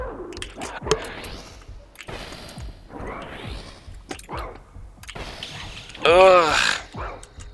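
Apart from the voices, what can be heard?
dog in the video game Lunacid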